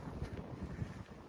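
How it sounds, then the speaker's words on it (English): Gusty wind blowing across an open farm field of wheat and oilseed rape, buffeting the microphone in a steady low roar with brief stronger gusts, with no voices. "very windy"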